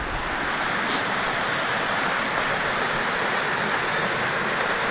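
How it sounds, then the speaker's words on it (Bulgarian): Rushing river pouring into a pool on the Kesikaya in Sredna Gora, a steady, loud broadband roar of churning water that runs unbroken throughout. "Реката се чува."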